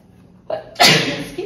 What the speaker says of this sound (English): I feel like every time I film a tutorial, I always get a sneeze in there.